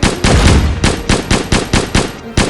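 Rapid gunfire from guns in a VR monster-shooting video game, a loud series of sharp shots and short bursts coming in an uneven rhythm, close and dominant.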